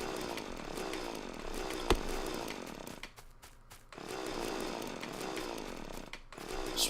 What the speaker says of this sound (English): oh, this chainsaw is so amazing.